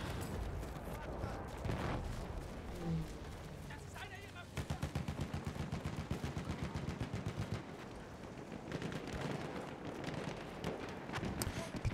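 Rapid battlefield gunfire from the First World War shooter Battlefield 1, with machine-gun bursts and scattered shots running continuously under excited voices talking over the action.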